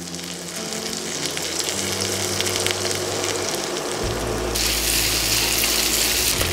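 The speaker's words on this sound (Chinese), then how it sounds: "炒香以后呢再把4个鲍鱼丢下去，再继续翻炒" Abalone tossed into hot oil with scallion, ginger and garlic in a wok, a steady broad sizzle and crackle that grows fuller and louder as the pieces go in partway through, with no talking.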